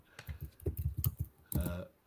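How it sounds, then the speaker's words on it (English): A loud computer keyboard clacks at close range during a live coding stream, a quick run of sharp keystrokes with a short pause and then a final burst of clicks. "your keyboard's a little too loud"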